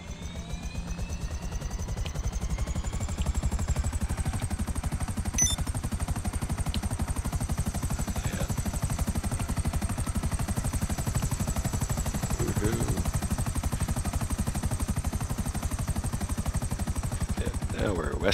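A helicopter flies in the video game GTA, its rotor and engine making a steady, unbroken drone that runs at an even, moderate level throughout.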